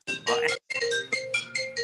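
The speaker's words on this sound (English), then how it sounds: "his cell phone go off at council meeting" Cell phone ringtone going off during a city council meeting, a bright repeating electronic melody with steady tonal bursts, fairly loud and close, briefly cutting out before resuming.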